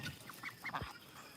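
Muscovy ducks and Pekin-Cayuga mix ducks give a few short, faint honking quacks in quick succession, heard at a distance with no talk.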